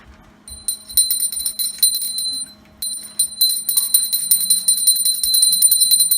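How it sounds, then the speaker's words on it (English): A small handheld bell rung continuously during a Hindu Aarti worship, bright metallic ringing in rapid repeated strokes, loud and close, pausing briefly midway before resuming; a faint low hum sits underneath. "most of the time we should ring the bell continuously"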